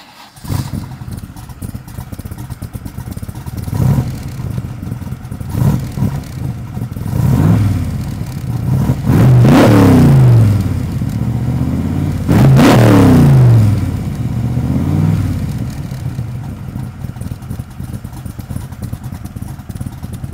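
A Prestige engine in a 1965 Backdraft RT4 roadster revs repeatedly, rising in two or three strong throttle blips over a steady rumbling idle, loud and close throughout.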